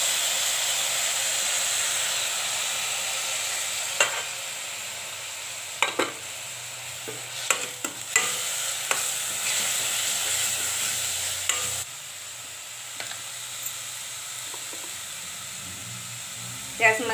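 Chicken with beetroot fries in a pan as coriander-garlic paste is added, giving a steady soft sizzle broken by a series of sharp scraping and clacking stirs from a spoon, with a voice speaking at times.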